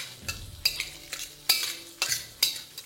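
Spoon scraping and clinking in a pan or bowl while a chicken chopper mixture is stirred together with chopped onion. The scrapes come in a rhythmic series of separate strokes, close and fairly clear.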